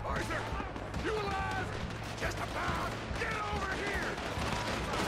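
Gunfire during the Saint Denis bank robbery in Red Dead Redemption 2, dense bursts of shots and crashes throughout, with excited voices talking over the fighting.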